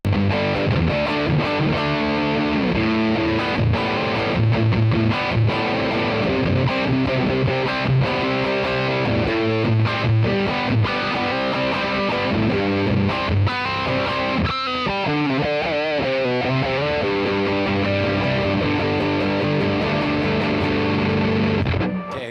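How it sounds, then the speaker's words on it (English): Electric guitar played through a Caline Head Room CP-34 distortion pedal with the drive set high, giving loud, thick, fuzzy chords and riffs that ring without a break, with a busier run of picked notes midway and no talking. "Let's interact the tone with the distortion."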